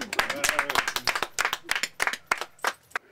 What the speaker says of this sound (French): Alors, nous applaudissons bien fort.